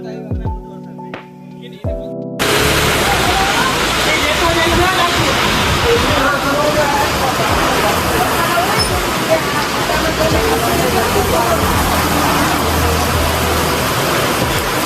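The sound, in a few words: rain during a cricket game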